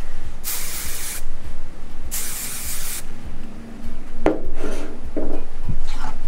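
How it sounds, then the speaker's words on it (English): Hairspray from an aerosol can hisses in two sustained bursts of about a second each, close and loud, with a few soft rustles and taps of handling afterward. "But we are going to start with our hairspray."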